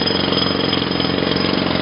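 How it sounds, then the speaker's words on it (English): A jackhammer pounds on a TV set, a loud, continuous, rapid mechanical hammering with a steady pulse and no voices. "I'm going to destroy the TV with a jackhammer."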